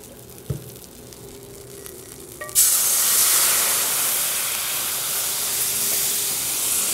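Sherry poured into a hot pan after searing tuna, bursting into a loud, sudden, steady steaming hiss that follows a brief clink and quiet stretch.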